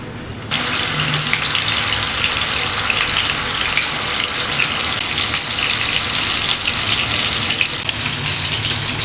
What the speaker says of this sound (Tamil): இப்போ நம்ம ஃப்ரை பண்ணிக்கலாம்.